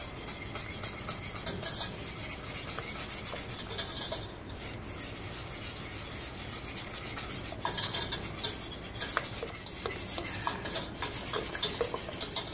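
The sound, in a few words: stirring hot cocoa mixture in a pan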